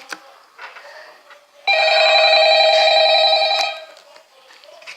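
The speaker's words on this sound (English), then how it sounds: "So we're getting a phone call right now." Electronic phone ringing in Five Nights at Freddy's 3, a single loud, sustained harmonic ring burst lasting about two seconds, standing out clearly above quieter background sounds before and after.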